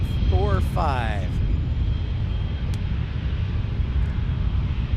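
A Cessna Citation X business jet at San Diego airport gives a steady, continuous engine roar heard from a distance, with a few brief chirping sounds near the start.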